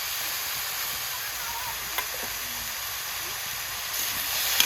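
Washed chicken hisses and sizzles steadily as it fries in a kadai at an outdoor hillside cookout, a loud continuous broadband crackle with a faint clink or two near the end.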